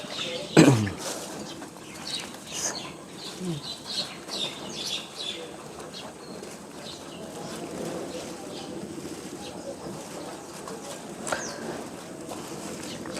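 Eleven pigeons fluttering inside a large cardboard carton, with a sharp wing burst near the start followed by soft shuffling, scattered cooing and muffled flaps while a person talks nearby.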